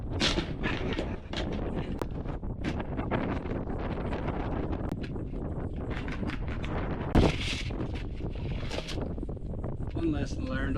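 Strong wind blows across the open Texas desert, buffeting the microphone in a continuous loud rush with gusts and rustling, while a person talks over it.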